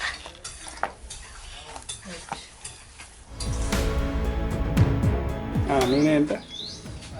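Onion pakodi batter with rice flour, salt, chilli and oil is stirred by hand in a bowl, giving soft scraping and clinking of utensils that grows busier and louder partway through, with a person talking over it.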